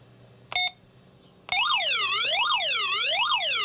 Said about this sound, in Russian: О, работает сигнализация.